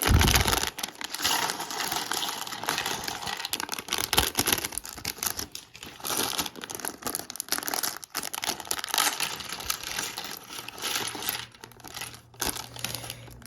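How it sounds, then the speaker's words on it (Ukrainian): Small LEGO pieces from set 71827 poured out of plastic bags, a dense, continuous clattering rattle of plastic bricks tumbling onto a surface, with crinkling bag sounds. "Давайте висипаємо пакетки."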